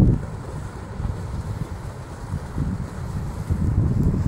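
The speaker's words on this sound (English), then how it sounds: "there's a hell of a lot of water coming out of this side" Large volume of water pouring out beside a canal, a steady loud rushing roar throughout with heavy low-end wind buffeting on the microphone.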